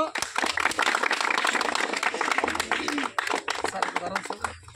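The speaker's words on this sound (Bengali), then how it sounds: "সবাই একটা হাততালি দিও।" Students clapping at an HSC farewell ceremony, a dense patter of many hands filling the room with brief dips, with voices talking over it.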